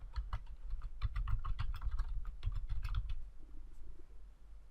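Fingers type a view name on a computer keyboard, a quick, close run of clacking keystrokes that tapers off into quiet near the end, with no talking.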